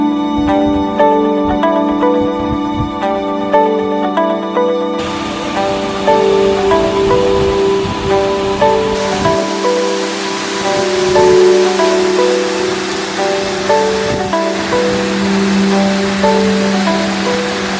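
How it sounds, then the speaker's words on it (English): The Llanos de Cortes waterfall in Costa Rica pours in a steady, loud, broadband roar that continues unbroken throughout, with a faint tonal hum layered over the rushing water. "this waterfall is much bigger and more impressive than I expected."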